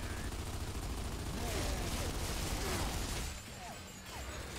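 Dense, continuous gunfire from the Gears of War 2 video game, a loud sustained volley of rapid shots that drops off in intensity near the end, with voices faintly in the mix.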